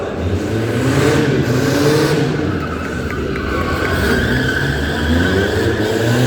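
Roaring monster truck engines and skidding tires blend into one loud, continuous rumble in an arena, as if several heavy vehicles are racing nearby.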